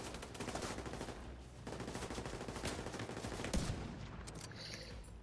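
Sustained automatic gunfire in The Division 2 on realism mode, a dense continuous rattle of rapid shots that stays loud throughout, with a brief heavier burst near the end before it thins out.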